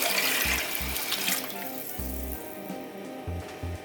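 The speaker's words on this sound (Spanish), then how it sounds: "Vamos a agregar el agua." Water pours steadily from a tap into a slow cooker holding beans, a close splashing rush with a few low knocks of the pot underneath, no voices.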